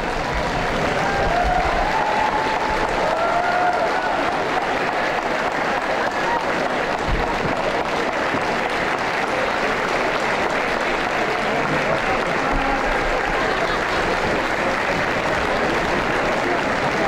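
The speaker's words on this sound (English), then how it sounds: "would the graduates please express their thanks by giving them a round of applause" Sustained, loud applause from university graduates honoring their families at a commencement ceremony, a dense wash of clapping filling the hall evenly for the whole stretch without a break.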